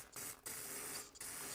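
Short bursts of spray hiss from a clogged carburetor jet on a Cub Cadet 3224 3200 psi pressure washer, three or four close, sharp spurts separated by brief gaps.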